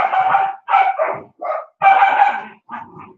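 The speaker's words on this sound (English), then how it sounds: "Dogs are up there playing" Dogs playing outdoors bark and yip in a quick series of six sharp, loud bursts with brief gaps, close and clear with no talk over them.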